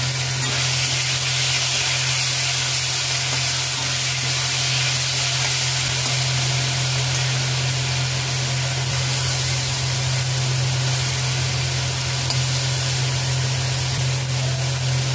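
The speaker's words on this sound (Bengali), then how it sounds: "কড়াইতে সাদা তেল দিয়েছি। 1 টেবিল চামচ সাদা সর্ষে দিয়ে দেব।" White mustard seeds and rice fry in white oil in a wok, a constant dense sizzling hiss over a steady low hum, unbroken and even for the whole stretch.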